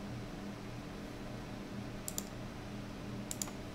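A computer mouse gives two quick pairs of soft, close clicks over a steady faint hum from a fan or room.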